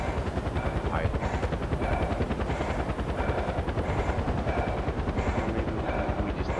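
A helicopter flies past in the Far Cry 4 video game, its steady rotor chop pulsing evenly throughout over dense game noise, with a voice talking over it.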